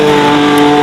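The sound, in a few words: supercar engine revving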